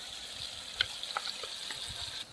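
Onion, ginger, garlic, chilli and cumin pastes fry in a pan for a rohu fish tail curry, a soft continuous sizzle broken by a few light scraping taps as they are stirred.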